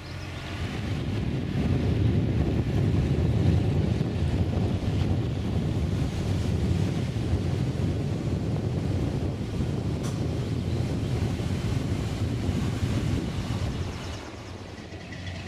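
Crooked Creek rushing beneath a covered bridge in Pennsylvania, a steady broadband wash of flowing water mixed with outdoor wind, constant and fairly loud for the whole stretch.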